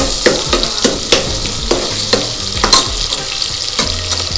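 Onions sizzle and fry steadily in a pan for vegetable pulao, with repeated scraping stirs of a spatula cutting through the dense hiss at close range.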